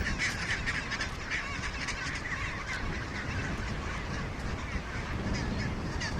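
Gentoo penguins in an Antarctic colony call from their stick-and-stone nests, a dense, continuous din of overlapping honking and braying voices, loud and close, with no pauses.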